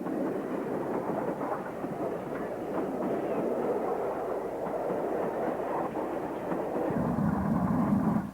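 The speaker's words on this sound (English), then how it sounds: "one of the majestic King-class locomotives built by Collett in 1927" A GWR King-class steam locomotive built by Collett in 1927 runs at Snow Hill with a steady loud rumble and rolling clatter throughout, the sound swelling slightly toward the end.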